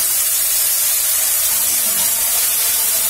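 A steady, loud hiss of steam rises as a spoonful of water hits Kashmiri chilli masala sizzling in a pan, cooking for an old-style Katla fish kalia; the spray-like noise holds evenly for about three seconds with no talking.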